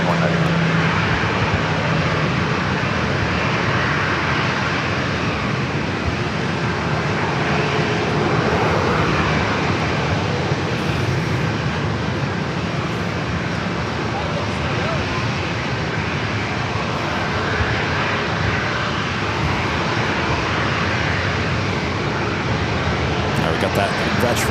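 An airplane at San Diego airport rumbles steadily and loudly for the whole stretch, a broad continuous engine roar with no break, while a voice talks over part of it.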